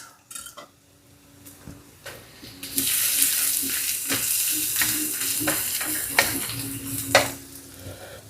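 Garlic sizzles in a hot frying pan beside browned sausage and caramelized onions, a steady bright frying hiss with intermittent scrapes and clinks of a utensil stirring against the pan, no talking.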